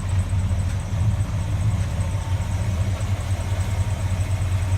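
1977 Ford 390 engine idling close by, an even low rumble with a steady rhythmic pulse and no revving.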